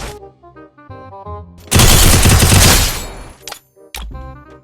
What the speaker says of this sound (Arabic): طلقة رأس أسطورية من عند بيلي